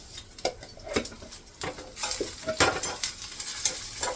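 Sesame seeds and coriander leaves roasting dry in a pan over a low flame, with a steady soft sizzle and repeated scraping, stirring strokes of a spatula against the pan.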